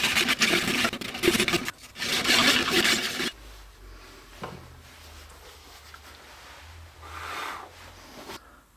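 Ebony plugs being sanded flush with a maple wood business card holder, two bursts of close, raspy rubbing strokes followed by quieter scattered handling sounds.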